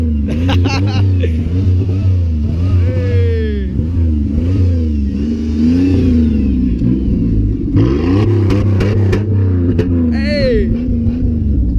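A Dodge Caravan minivan with no exhaust revs hard and repeatedly, its raw, loud engine rising and falling in rough surges close by, with people shouting and talking over it.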